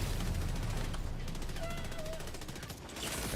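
Sustained automatic gunfire from bunker turrets in Helldivers 2 roars continuously and loudly, a dense rapid stream of shots with battle noise layered over it.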